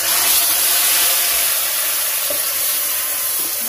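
A spice paste of cumin, ginger and chilies hits hot oil in a village kitchen, giving a loud, continuous, close sizzle and hiss that fades only slightly over a few seconds.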